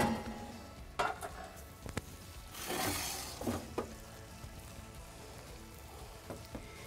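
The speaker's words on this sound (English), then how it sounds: "It's had a good sizzle going all the way through." Red mullet sizzles softly and continuously in a wood-fired oven, with occasional clicks and clatters and a brief louder hiss of fizzing partway through; no talking.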